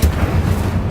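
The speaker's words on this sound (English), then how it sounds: "Incendio." An Incendio fire spell cast in Hogwarts Legacy: a loud, low rumbling whoosh of magical flame, steady and dense across its short second.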